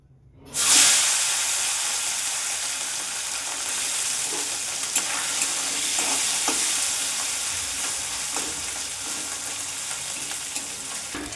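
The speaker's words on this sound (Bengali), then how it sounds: "বন্ধুরা, মাছটাও ভেজে নেবো" Tangra fish sizzling as it hits hot oil, a sudden loud hiss that settles into steady close-up frying crackle and spitting, with occasional small pops.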